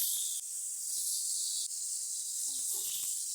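Chicken steak sizzling in a pan after being flipped, a steady bright hiss throughout with a few faint clinks near the end.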